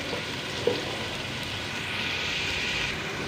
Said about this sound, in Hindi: 2 से 3 मिनट के लिए अच्छे से भुनाई कर लेंगे चिकन की